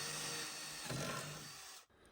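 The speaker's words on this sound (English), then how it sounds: "So you start by drilling holes the appropriate width for the carabiners that you're attaching." Power drill boring holes into the seating of a small Boston Whaler boat: a brief, steady whirring buzz with a coarse rasp, running close for about two seconds and then cutting off abruptly.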